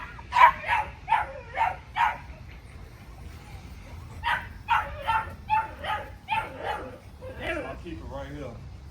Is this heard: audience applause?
no